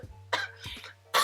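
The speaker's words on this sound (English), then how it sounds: "I've had this terrible cough over the past almost 2 weeks now." Three harsh, raspy coughs close to the microphone, separated by short pauses, the last one loud and abrupt.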